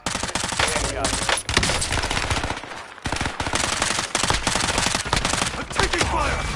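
Dense automatic gunfire in Call of Duty Warzone, rapid bursts rattling almost nonstop at high volume, with short pauses between volleys and a brief lull near the middle.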